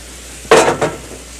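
Food lightly sautéing in a skillet while a spoon stirs, giving two short bursts of sizzle and scraping over a quiet background, close and moderately loud.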